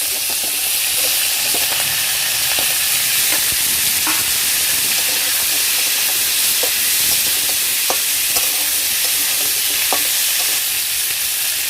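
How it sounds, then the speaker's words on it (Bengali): Cut pumpkin and okra sizzle steadily in hot oil in a pan while cooking a prawn and ripe tamarind sour dish, a dense continuous frying hiss with occasional sharp pops and stirring clicks, close and loud throughout with no talking. "এবার দেব কেটে রাখা কুমড়ো আর ঢ্যাঁড়স"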